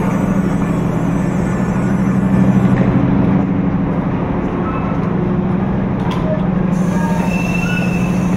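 Batu Raden Express passenger train pulling into Bandung station, a loud continuous low rumble of rolling wheels with faint metallic squeals and clanks over the top.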